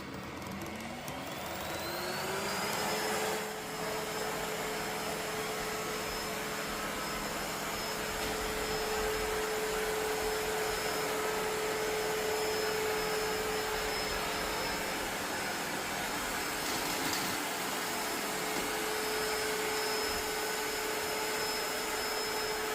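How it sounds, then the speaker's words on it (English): An Ecovacs T10 OMNI robot vacuum runs continuously indoors, a steady whirring motor hum with a rising whine as it spins up, then holding a constant close drone with no talk. "Okay, start furniture area cleaning."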